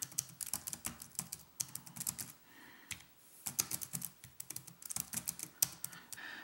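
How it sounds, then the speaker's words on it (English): Fingers type on a keyboard cover for a Samsung Galaxy Note 10.1 2014 Edition tablet, producing rapid, close plastic key clicks in uneven bursts with brief pauses and no voices. "let's go ahead and write something so I can show you guys the keyboard"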